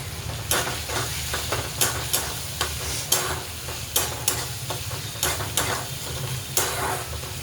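Chopped vegetables with turmeric, tomato, garlic and green chilli frying in a pan, a close, steady sizzle with regular sharp stirring scrapes about once a second. No voices.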